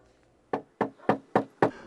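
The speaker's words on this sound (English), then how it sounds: "the next time you get a knock at the door" Five firm, evenly spaced knocks on a door, close and distinct, sounding alone against a quiet background.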